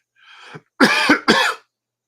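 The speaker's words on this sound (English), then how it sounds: "Pardon my cough." A person coughs up close: a short breathy lead-in, then two sharp, harsh coughs in quick succession before silence.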